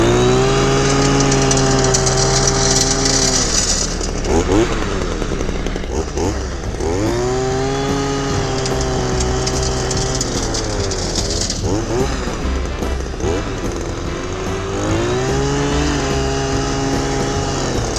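A tractor engine runs steadily and loudly throughout a winter gravel cleanup in a yard, its pitch rising and falling as the load changes, with a harsh, continuous drone under scraping rock.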